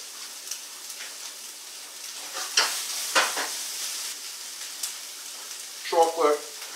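Cookies, an Oreo and plastic wrappers sizzle and crackle in a Copper Chef 10-inch frying pan, a faint steady hiss broken by a few sharper pops and stirring scrapes.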